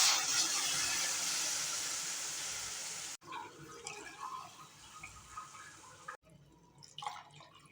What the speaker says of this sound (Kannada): ಮೂರು ಬೌಲ್ ಆಗಷ್ಟು ನೀರು ಹಾಕ್ತಾಯಿದ್ದೀನಿ